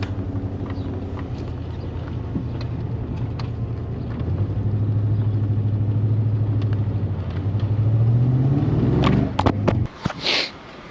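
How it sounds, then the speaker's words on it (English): A Ford Fox Body Mustang engine runs with a low, steady rumble that swells slightly, then breaks into a few sharp backfire pops near the end. "So it looks like everything is running. It's just backfiring a little bit"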